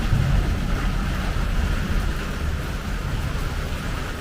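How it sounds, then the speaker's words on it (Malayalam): Heavy rain pouring steadily during a thunderstorm, a dense, loud hiss with a low rumbling undertone throughout and no break. "മഴ എത്ര വേണേലും പെയ്തോട്ടെ, പക്ഷെ ഈ മിന്നൽ ഇത് വേണ്ടായിരുന്നു."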